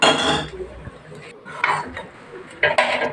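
Venn pongal is stirred in a metal pot after salt is added, and a spoon scrapes and clinks against the pot in close, uneven bursts. Faint background noise carries on between the strokes.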